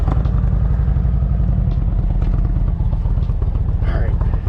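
A 2020 Indian Challenger motorcycle on a test ride, its engine a loud, steady low rumble held close throughout with slight clatter on top.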